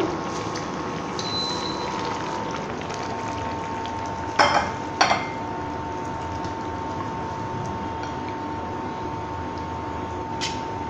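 Steady low hiss of fish frying in a pan on a home stove, a continuous sizzle broken by a couple of short clattering utensil knocks midway, with no talking.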